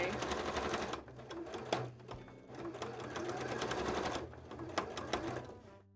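A sewing machine stitches a cosplay test piece in fast rattling runs, close and fairly loud, pausing briefly between bursts of stitching.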